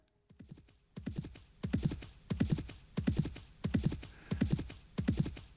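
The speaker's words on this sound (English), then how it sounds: "Horses galloping." Sampled horse-gallop effect from a multi-timbral sound font sampler synthesiser on iOS: steady rhythmic clip-clop hoofbeats in about seven evenly spaced clusters, close and clear, with no voices.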